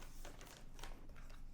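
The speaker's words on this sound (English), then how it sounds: "Let's unfoil it, unwrap it on the bottom." Foil packaging around a wireless microphone crinkles and rustles in short, faint, papery bursts over a low background hum.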